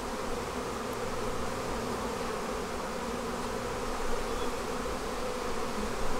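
A dense, continuous drone of many honey bees buzzing around a hive during a swarm, steady and close throughout with no voices.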